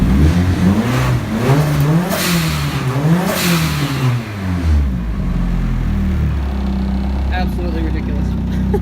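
A car engine fitted with a new mid-mount intercooler setup revs hard several times in rising and falling sweeps, then settles into a lower, rumbling idle, loud and close, with a voice speaking partway through.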